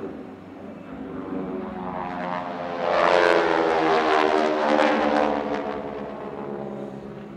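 Titan Aerobatic Team propeller aircraft at the Barksdale airshow, a droning prop engine that swells loudly as it passes overhead, then slowly fades, heard alone.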